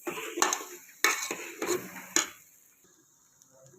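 A spoon stirs chili powder into egg masala in a pot, giving four or five sharp metallic clinks and scrapes in the first two seconds before it goes mostly quiet, with a faint clink near the end.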